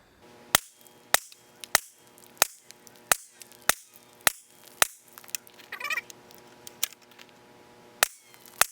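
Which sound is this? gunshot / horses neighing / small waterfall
gunshot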